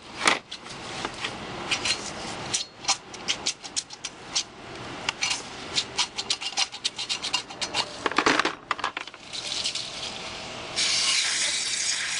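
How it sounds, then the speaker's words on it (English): Aerosol brake cleaner hisses in short, uneven bursts into brake caliper slide pin holes of a Suzuki Forenza, mixed with scratchy rattling, ending in a longer steady hiss. "spray the old grease out of the slide pin holes using brake cleaner"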